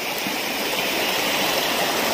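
Clear stream water rushes steadily along a cycling route, a dense, continuous close-by hiss and gurgle with no break and no voices.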